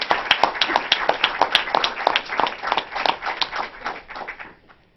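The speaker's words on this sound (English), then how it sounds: "That does deserve a round of applause." A crowd at a news conference applauds with dense, rapid clapping that swells briefly and then fades out toward the end.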